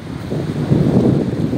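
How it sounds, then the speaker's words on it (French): Steady, blustery wind buffets the microphone in low rumbling gusts along the beach at Saint-Tropez, with a faint wash that could be surf in the background; no voices. "Il y a du vent."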